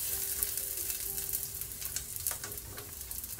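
Onions frying in a pan for Japanese yakisoba, a continuous soft sizzle with occasional stirring scrapes and a faint steady tone underneath, no voices.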